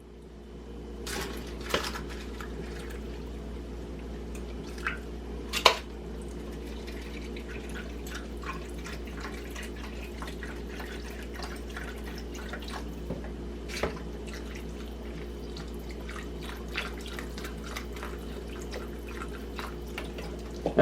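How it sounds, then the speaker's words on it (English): Chicken broth trickles and drips steadily over turkey wings in a pan, over a low constant hum, with a few louder splashes scattered through a long, otherwise even pour. "pour it right over my turkey wings in the corner."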